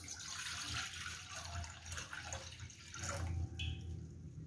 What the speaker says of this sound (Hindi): इसके अंदर 2 गिलास पानी ऐड करेंगे।